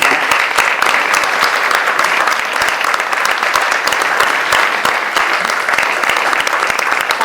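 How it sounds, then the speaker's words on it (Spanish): Sustained loud applause from a crowd at a book presentation, dense and even clapping throughout without a break. "para quien pido en este momento una aplauso."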